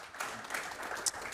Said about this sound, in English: If you could kindly give a round of applause.